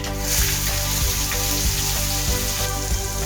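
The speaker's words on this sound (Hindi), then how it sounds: "प्याज का कलर चेंज होने तक इसे भून लेंगे।" Onions frying in hot oil in a kadai with asafoetida, cumin, garlic and curry leaves: a loud, dense, continuous sizzle with faint crackles, heard up close and alone.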